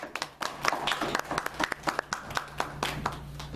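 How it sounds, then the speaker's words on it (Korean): A church congregation at a Christmas thanksgiving service claps to welcome the pastor, a dense run of hand claps with sharper individual claps standing out over a low hum of the hall. "자, 우리 박수로서 환영하겠습니다."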